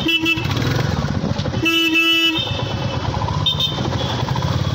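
A motorcycle rides through a Sunday traffic jam, its engine droning steadily and close while several loud car horns honk in short and longer blasts around it.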